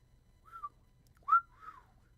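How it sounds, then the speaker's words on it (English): A person whistles a few short rising-and-falling notes, alone and fairly close, with long gaps between them and no talk. "I cannot get my whistles to work right then"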